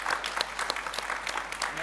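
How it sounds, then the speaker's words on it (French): Applause from a conference audience at the close of an emerging-markets forum debate, a steady dense clapping that fills the whole moment at moderate loudness, with some speech faintly mixed underneath. "Je crois qu'il faut l'applaudir."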